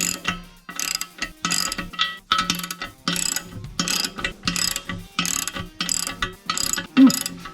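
Rapid ratchet clicking in repeated bursts, each a quick run of pawl ticks followed by a short pause, as lock nuts are run down on the studs of a Ford 9 inch axle housing. Close and loud with no talk.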